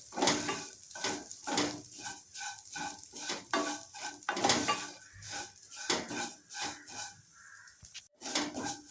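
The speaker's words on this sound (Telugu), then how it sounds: "కొంచెం కలర్ వచ్చేదాకా స్టవ్ సిమ్లో పెట్టుకుని వేయించుకుంటే సరిపోతుంది" Vermicelli dry-roasting in a pan over a low flame, with repeated scraping and clinking of a spatula against the metal and a faint sizzle underneath, in a quick, uneven rhythm.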